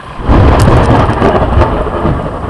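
A loud, close thunderclap from a nearby lightning strike during an early morning thunderstorm, rumbling steadily for a couple of seconds over falling rain, with no talk.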